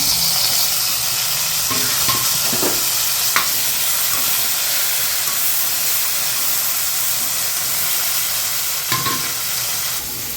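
Tomato and onion sautéing in a pan for spicy fish curry, a steady close sizzle and hiss with occasional stirring scrapes and clinks throughout.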